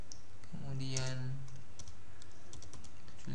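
Keys tapped on a computer keyboard while entering a Linux chmod command, a sparse run of light clicks at close range, heard alongside a brief burst of a voice.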